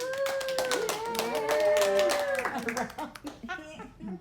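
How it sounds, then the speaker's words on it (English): Crowd applause and clapping at a magic show rising under a speaking voice, then thinning out into scattered claps as the talk continues. "Let's give Katie a round of applause"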